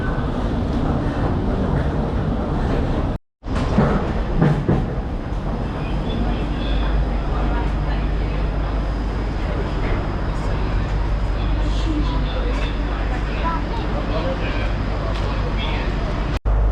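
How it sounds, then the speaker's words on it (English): Interior of a moving train on a trip back to Worcester, a loud steady rumble and rattle of the carriage with a brief dropout early on, people's voices talking over the running noise. "So I'm now on the train"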